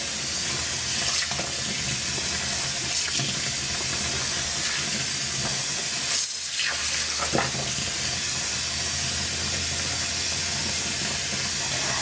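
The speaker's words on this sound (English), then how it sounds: "I do like to add water to my paste." Tap water runs in a steady, loud hissing rush onto laundry powder paste, with faint stirring and swishing textures underneath and a brief dip in the flow partway through.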